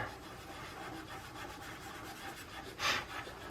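Steady scratchy rubbing of graphite across paper, continuous and close, with a brief louder stroke near the end.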